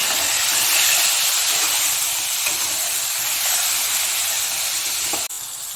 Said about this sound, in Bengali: একটু হলুদ গুঁড়ো দিয়ে পটলগুলোকে 2 মিনিটের মতো ভালো করে ভেজে নেব।